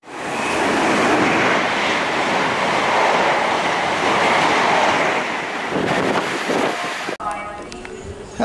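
An East Midlands Trains passenger train rumbles steadily past at close range at Loughborough station with loud rolling roar and wind-like noise, then brakes squeal faintly as it slows.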